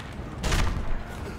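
In the Mad Max video game, an explosion during a combat race bursts out as one short, heavy boom that rises and fades within about half a second over a low background rumble.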